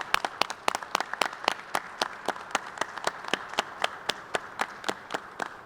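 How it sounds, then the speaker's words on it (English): Sparse, distinct hand claps from a small audience at a convention center groundbreaking press conference, sharp individual claps at an irregular but steady rate, no voices. "Can we give them all a round of applause?"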